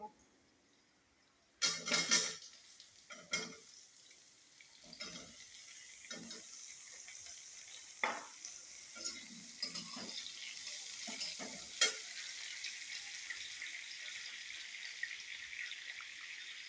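Potato and onion sizzle steadily in a hot pan while a spoon scrapes and stirs in repeated bursts, with no talking.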